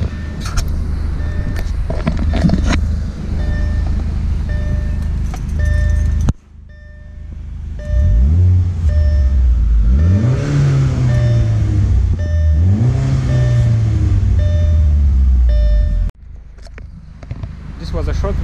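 An Audi A4 1.8-litre turbocharged engine, with catalytic converter still fitted, idles and then revs up repeatedly, its pitch sweeping up and down in several loud pulls, with talking at times.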